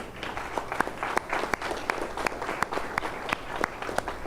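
An audience gives a round of applause for Team Pancakes: a continuous, fairly close patter of many hands, with sharper individual claps popping out over it throughout.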